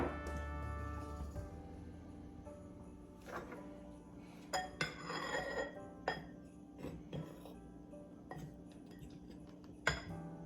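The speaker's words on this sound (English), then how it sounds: "And you take about 10 of those candies, those peppermints, and crush them up." About ten peppermint candies being crushed, heard close and fairly quiet: a run of sharp, irregular clinks and cracks over a low background hum, with no talking.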